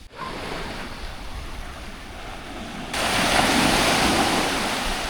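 Gentle surf on a calm, windless beach in Florianópolis, a steady broadband wash of small waves that grows fuller and louder partway through, with no voices.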